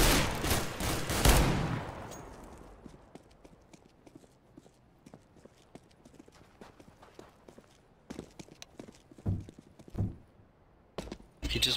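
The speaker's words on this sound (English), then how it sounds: "He just missed a shot." Gunshots in the video game CS:GO, a loud burst of rapid shots at the start that fades away, followed by quieter scattered impacts and a few sharp isolated shots later on.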